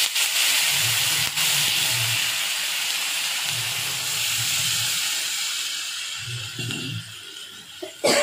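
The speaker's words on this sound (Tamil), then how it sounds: "நான் ஒரு அரை டம்ளர் தண்ணி தெளிச்சுக்கிறேன்." Water splashed into a pan of goat brain gravy with tomatoes and egg sets off a loud, steady steamy hiss, with softer bubbling pulses underneath and no talking.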